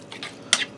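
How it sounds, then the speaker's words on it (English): Brief scrape and clink of a utensil stirring a chicken casserole mixture in a pan, a couple of soft strokes followed by one sharper, brighter scrape, close and alone. "Give that a stir"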